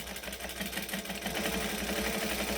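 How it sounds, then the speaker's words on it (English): A sewing machine back-stitches a seam on a fabric bag, giving a steady fast mechanical whir with a fine rhythmic needle chatter, running continuously and fairly close. "So we're going to stitch, back stitch"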